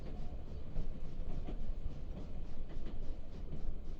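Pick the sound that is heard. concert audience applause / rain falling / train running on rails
train running on rails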